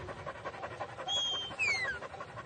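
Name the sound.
sheepdog panting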